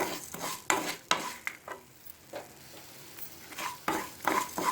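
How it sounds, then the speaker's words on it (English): Coriander seeds and a red chili frying in coconut oil for a Kerala black chickpea curry, crackling under repeated close stirring scrapes in the pan, with short bursts and pauses. "I'm going to add the coconut oil, then I'm going to add the coriander seeds and 1 red chili. I'm going to fry this."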